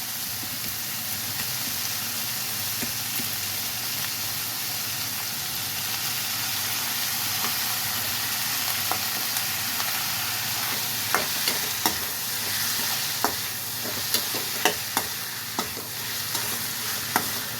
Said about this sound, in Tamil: இப்போ கத்திரிக்காவும் தக்காளியும் வதங்கட்டும்